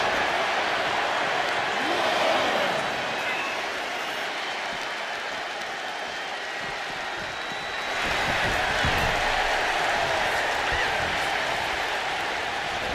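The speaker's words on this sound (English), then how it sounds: "Look at this crowd! It's insanity in here! Bedlam!" A WWE 2K26 wrestling arena crowd roars continuously at a steady loud level, swelling near the end, with a commentator talking over it.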